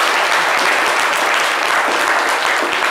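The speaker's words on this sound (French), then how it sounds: "Waouh, applaudissements pour lui." A studio audience on a radio show applauds a caller, continuous, even clapping from a crowd, loud and close with no pauses.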